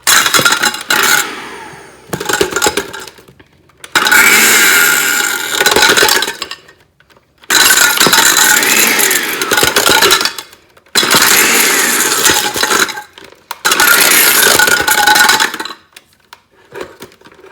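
A blender grinding up an iPhone 5s, loud harsh whirring and rattling clatter in five bursts of a couple of seconds each, separated by brief pauses, with no talk.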